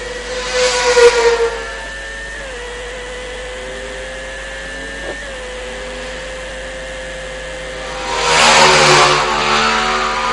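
An Aprilia racing motorcycle in a Formula 3 road race at Southern Downs screams past on the track, loud and near, its engine note falling as it goes, with another bike howling by a few seconds later.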